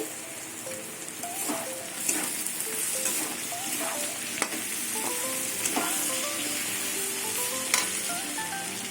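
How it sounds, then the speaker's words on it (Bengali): Ginger paste and tomato frying with garlic in a hot pan, a continuous close sizzle with scattered crackles and spoon scrapes over a steady hiss. "রসুনের কাঁচা গন্ধটা চলে গেছে এবার আদা বাটা দিয়ে দেবো টমেটো দেবো"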